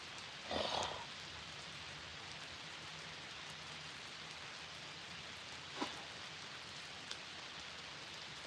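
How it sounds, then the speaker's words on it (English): Steady rain patters down over a fishing spot on the Wisconsin River, a constant soft hiss with a faint low hum beneath and a few isolated sharper taps and drops. "I knew it was going to rain today"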